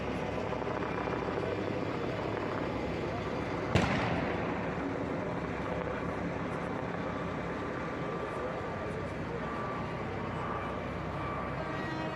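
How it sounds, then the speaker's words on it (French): A helicopter drones overhead during a farmers' protest in Brussels, a steady whirring rumble above crowd noise, with one sharp bang near the start. "Et là, il y avait un hélicoptère dans le ciel."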